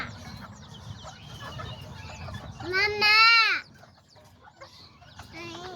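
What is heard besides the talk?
Azteca chickens and game roosters clucking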